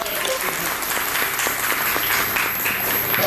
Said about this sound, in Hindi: और डॉक्टर साहब का तालियां बजा करके